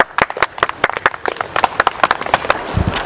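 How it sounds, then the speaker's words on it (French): Children clapping in an outdoor class, a quick scattered patter of separate hand claps, close and uneven, alone without talk. "Bravo. On peut l'applaudir?"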